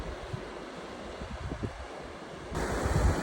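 River water at a public river access in Guerneville, California, rushes steadily while wind buffets the microphone, the noise swelling louder near the end, with no talking.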